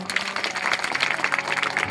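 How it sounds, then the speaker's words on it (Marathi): A village audience claps for a boy, a brief burst of dense, lively applause from a nearby crowd lasting a couple of seconds. "टाळ्या वाजवा"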